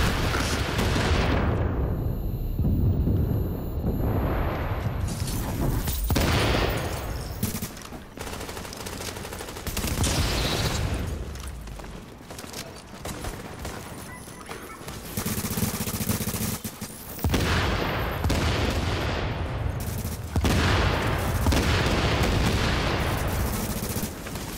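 Rapid automatic gunfire and bursts of shots from an online shooter game, loud and nearly continuous with short pauses, in dense volleys with no talk over the shooting.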